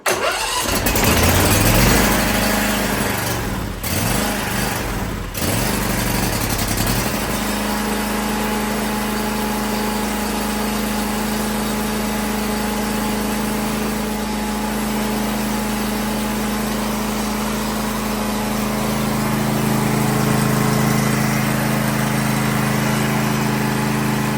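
A Briggs and Stratton V-twin lawn mower engine cranks for a few seconds, fires up and settles into a steady, loud, close idle that continues to the end, with no voices.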